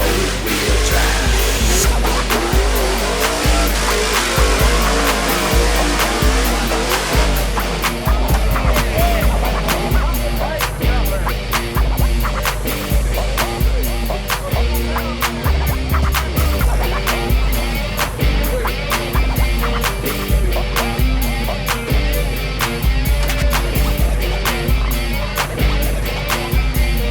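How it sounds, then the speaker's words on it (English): A big-tired four-wheel-drive truck in low range churns through thick mud at an off-road event, its engine roaring loud and continuous while the tires spin and spatter mud in rough, pulsing bursts. "Heavy low, right now, picking up mud in my four-wheel drive."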